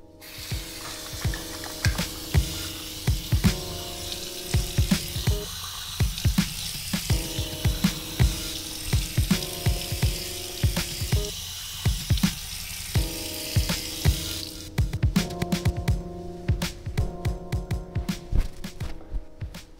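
Tap water runs and splashes continuously at a bathroom sink as shaving soap is rinsed off a face, a steady close hiss broken by intermittent splashing and short pauses.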